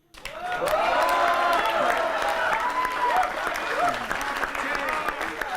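Audience applause at a Holi comic poetry gathering, a steady wash of clapping from a large crowd that starts abruptly and holds at full strength throughout, with faint voices mixed in.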